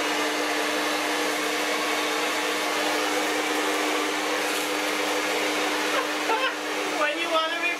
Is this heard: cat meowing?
no